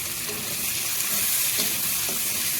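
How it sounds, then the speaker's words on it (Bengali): Onions and green chilies frying in oil with turmeric for a Bengali prawn malai curry, giving a steady, close, loud sizzle with faint stirring scrapes throughout. "পেঁয়াজটা হালকা ভেজে নেব।"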